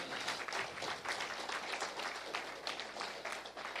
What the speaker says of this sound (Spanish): Dale un aplauso al Señor, amén.